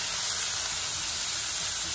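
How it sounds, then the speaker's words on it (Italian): Diced pancetta just set on the heat in a frying pan, beginning to render fat while browning for carbonara, giving off a steady, close, dense hiss and sizzle with no pauses. "Ecco che inizia un po' a sfrigolare."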